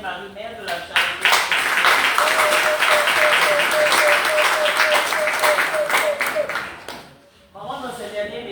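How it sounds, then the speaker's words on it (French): A church congregation at Mass breaks into loud, sustained applause with some voices mixed in, a held tone running through the middle, before the clapping fades and talk resumes near the end. "je voudrais que vous donniez des acclamations à notre Seigneur Jésus-Christ."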